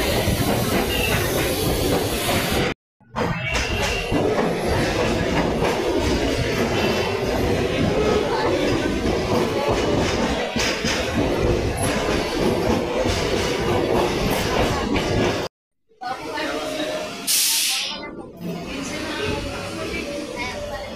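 A Naihati local train rolls along the rails after pulling out of Khidirpur, with a loud continuous rumble, hiss and clatter broken by two brief dropouts, and a voice talks intermittently over the noise.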